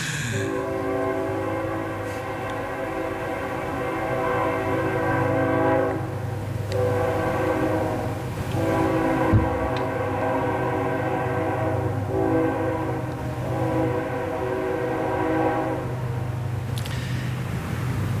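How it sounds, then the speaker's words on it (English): A loud, sustained train horn blares continuously with a few short breaks and swells, over the low rumble of a passing train. "thank God for the train whistle keeping everybody safe"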